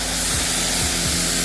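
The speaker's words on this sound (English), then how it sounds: "We're gonna spray this side of the car off" A dense, continuous spray hiss as rinseless wash is sprayed off the side of a car, loud and close, with a faint low mechanical pulsing beneath and no talking.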